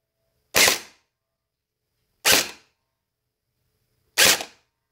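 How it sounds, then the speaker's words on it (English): Gel ball blaster firing three evenly spaced sharp shots about two seconds apart, close and loud against silence, with gel balls ricocheting off a target. "I'm shooting too low and they're ricocheting out."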